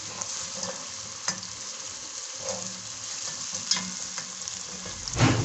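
Beans sizzle steadily in a hot pan, a continuous frying hiss with a few soft stirring knocks, close and moderately loud with no talking.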